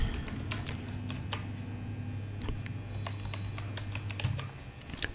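Keys clatter on a computer keyboard during data entry, a close, quiet patter of rapid irregular clicks over a steady low electrical hum.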